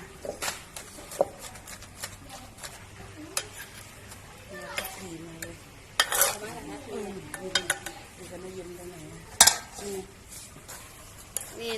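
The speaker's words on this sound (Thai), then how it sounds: "ใส่ปลาทูแล้วตำไปน้ำกันเลยจ้ะ" A pestle thumps and knocks in a mortar, pounding grilled mackerel with shallots and chili for a Thai curry sauce, in uneven close strikes while someone talks nearby.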